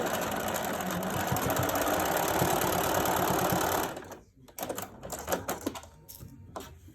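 A sewing machine runs in a fast, steady rattling stitch for about four seconds while sewing a fabric face mask, then stops, followed by lighter handling clicks and rustles.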